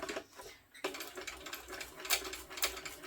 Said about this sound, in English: I'm going to back stitch over each one of the flaps, or the card slots